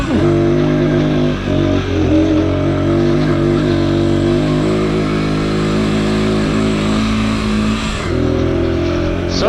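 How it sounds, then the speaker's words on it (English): A Sherco TY125 trials motorcycle engine drones steadily and loudly on a steep climb, with shifting revs and a brief dip near the end before picking back up. "it's a mountain bike with a small engine and tank"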